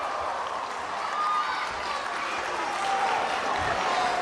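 A wrestling arena crowd roaring and cheering in a sustained wash of noise, loud and continuous throughout with some clapping mixed in.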